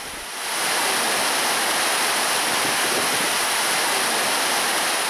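Floodwater from an overflowing river rushes through town streets in Santa Ana, a loud, steady roar of churning water that is strong enough to sweep away vehicles and a police motorcycle, continuous and unbroken with no voices.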